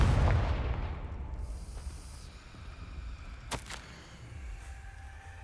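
A Confringo blasting spell explodes in Hogwarts Legacy: one heavy, rumbling boom at the very start that slowly decays into a low, fading roar, with a brief crackle partway through.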